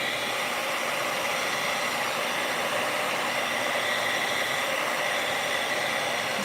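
A hair dryer blows steadily and loudly close by, an unbroken whooshing roar drying watercolor Halloween gift tags, with no talking over it.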